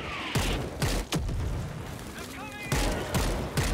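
Gunfire in the co-op zombie shooter World War Z: Aftermath: a series of sharp, loud shot bursts at irregular intervals, with a steady game-noise bed and brief voice-like tones between the volleys.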